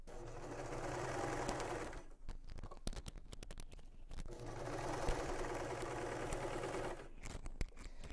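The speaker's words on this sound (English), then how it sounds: "I did it on the sewing machine." Sewing machine stitching faux fur, close up: two bursts of steady, rapid needle whirring separated by a pause filled with clicks and handling of the fabric, with no talk.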